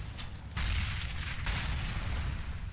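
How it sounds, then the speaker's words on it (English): Incendiary grenades bursting during a competitive Counter-Strike: Global Offensive match, heavy low booms and crackling fire noise arriving in two surges, loud and dense with no voices. "A lot of incendiary grenades going in towards T-Con."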